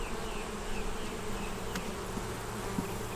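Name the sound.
honey bees buzzing at hive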